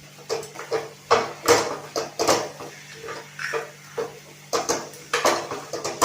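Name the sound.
stirring coconut barfi mixture in a pan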